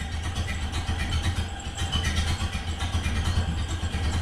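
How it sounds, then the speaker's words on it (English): A Ford Model A barn-find engine chugs steadily at idle, a continuous low rhythmic rumble with no talk over it. "We'll let it chug away there."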